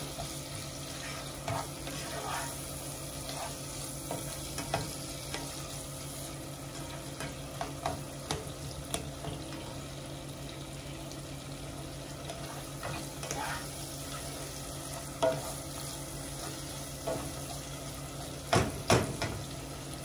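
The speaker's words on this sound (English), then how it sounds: "we're going to stir this up. Let's cook the onions until it gets soft." Onions soften in a pot for curry oxtail as a spoon stirs them, giving a steady close sizzle and hiss with scattered soft scrapes and light clinks against the pot, and a few sharper knocks near the end.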